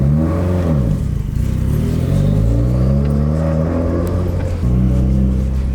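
A Subaru WRX engine drones steadily and loudly while driving, with its pitch rising and falling as the car accelerates and shifts, plus light rattles.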